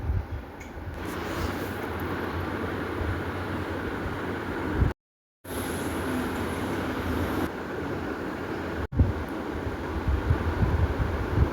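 Steady loud rumble and rushing wind noise inside a moving Chennai Metro train, with a brief dropout and a sharp click partway through; no talking.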